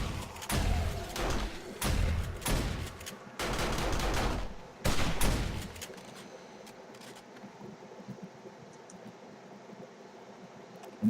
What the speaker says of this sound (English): The amount of headshots these turrets make is ridiculous.